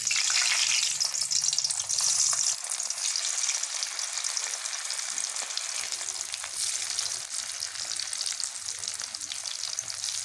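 Potatoes frying in hot oil for an egg and potato curry, a steady bright crackling sizzle throughout, close and continuous, with faint low clatter underneath.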